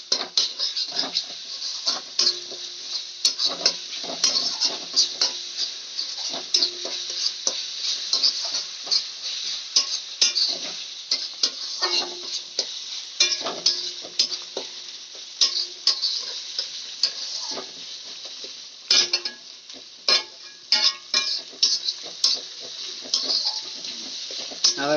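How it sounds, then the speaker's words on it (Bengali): Ginger-garlic paste being stirred and sautéed in a pan for a chili-charred chicken dish, with a steady close sizzle and frequent scraping, clinking strokes of a utensil against the pan throughout. "আদা রসুন বাটাটা আমি ভালো করে একটু কষিয়ে নেব।"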